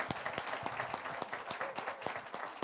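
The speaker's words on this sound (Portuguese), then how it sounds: "Gostaria de uma salva de palmas à professora Adriane" Audience clapping after a lecture on special retirement reform, a steady patter of many hands with sharp individual claps standing out, fairly close and continuous with no talk over it.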